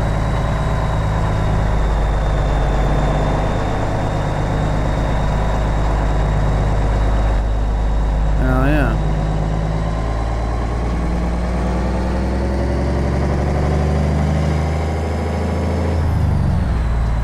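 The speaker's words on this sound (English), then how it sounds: "it's got Creech's engine pack in there, and we got the Cummins N44 in here right now" A Cummins N14 diesel engine in a Peterbilt 362 truck in American Truck Simulator idles steadily with a deep, constant rumble, and a brief hiss of air sounds partway through.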